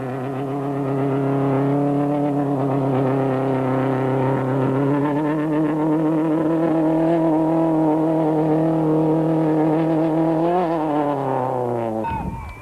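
A Volkswagen rally car drives off after being pushed at the 1993 Volkswagen International Rally, its engine revving loudly and steadily with rising pitch, close by, before cutting off abruptly at the end.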